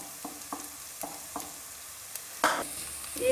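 Chopped onions and green chilli frying at medium heat in a pan, a soft sizzle under a few distinct stirring scrapes and clinks, close by, with a louder clatter near the end.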